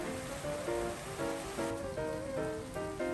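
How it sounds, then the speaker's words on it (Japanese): Soft, steady patter of rain beginning to fall outside an open window, a faint continuous wash with some tonal background sound over it and no voices. "雨降ってきちゃったね"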